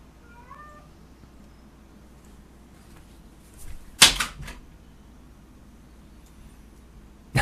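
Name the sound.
cat meowing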